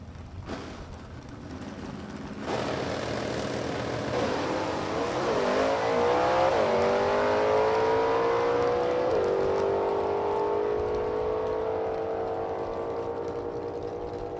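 A stick-shift race car engine at a Beech Bend test-and-tune session revs up and accelerates hard, its pitch climbing through several gear shifts before holding a loud, steady high whine as it speeds away.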